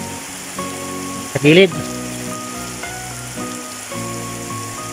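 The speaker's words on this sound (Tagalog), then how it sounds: "So, napakalakas yung ulan, no?" Heavy rain pours steadily onto surfaces outside a flooded house, a constant hiss under short bursts of nearby speech.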